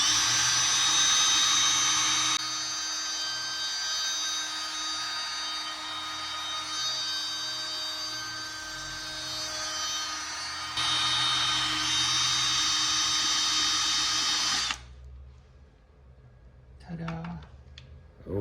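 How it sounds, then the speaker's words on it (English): An electric drill spins a 3M sandpaper-wrapped dowel inside a hollow form turned from box elder burl. It makes a steady, loud whirring and scraping that runs without a break, then cuts off near the end, leaving faint quiet sounds. "and then I let the drill do the work."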